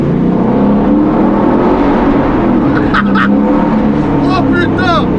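A Ford Mustang GT500 Eleanor engine roars loudly and steadily while accelerating, heard from inside the car, with excited voices shouting briefly over it near the end.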